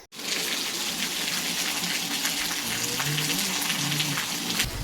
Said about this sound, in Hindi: देखो गजब की बारिश आ गई आज तो।